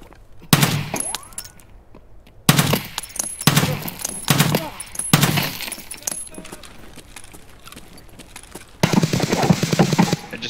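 Automatic gunfire in a shooter video game, rattling in several loud, close bursts separated by brief pauses, followed by a denser stretch of mixed game noise.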